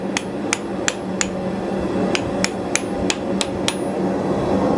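A hammer lightly taps a forged steel heart hook clamped in a vise. The metallic taps are crisp, ringing and evenly spaced, about eleven of them in two groups. They sit close and clear over a low workshop hum, with no talking.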